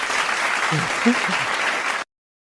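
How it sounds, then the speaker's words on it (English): A short burst of crowd applause plays for a live stream guest on a sports talk show, dense and even for about two seconds with a faint voice underneath before cutting off sharply. "Let me get him some applause."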